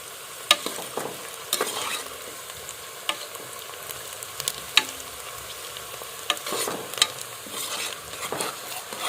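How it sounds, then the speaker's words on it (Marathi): Rice stir-fried in a pressure cooker until golden, with scattered scraping and clinking stirs over a soft, steady sizzle, close and fairly quiet, with no one talking. "तांदूळ परतून घ्यायचो लाल होईपर्यंत"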